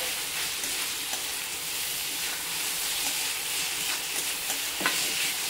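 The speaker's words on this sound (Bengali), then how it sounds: "আবারও কিছুটা নাড়াচাড়া করে নেব, নিলে রেডি হয়ে যাবে।" Filling for a quick flour-and-egg snack is stirred and fried with soy sauce in a pan, giving a steady close sizzle with scraping spoon strokes throughout, no voices.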